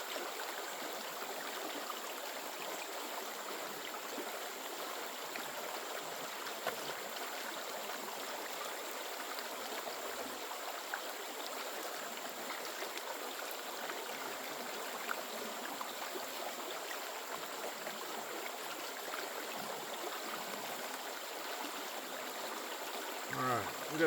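Stream water flows steadily at a gold prospecting site, a constant broadband rushing wash that stays even throughout, with no voices heard.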